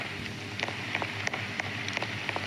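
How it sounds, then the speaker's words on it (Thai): Rain falls in the Roblox game Brookhaven as a steady, even hiss with scattered faint patters of drops, fairly quiet throughout. "โอ้ยฝนตก เข้าบ้านก่อน"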